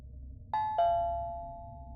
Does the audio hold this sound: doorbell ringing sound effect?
yes